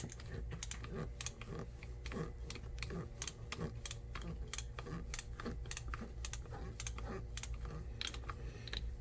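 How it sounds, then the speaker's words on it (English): A ratcheting screw starter turns into wood with a rapid, even series of faint close clicks, steady ratcheting with no speech over it. "I guess you can hear the ratcheting action"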